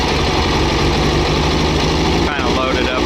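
A 1969 VW Baja air-cooled engine idles steadily on a frosty morning, a continuous close rumble with a brief dip near the end.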